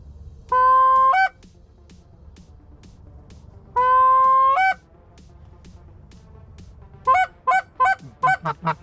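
Canada geese honking as they fly low overhead during a goose hunt in Missouri: two drawn-out calls, then a quick burst of clear, loud honks, heard alone against a quiet outdoor background.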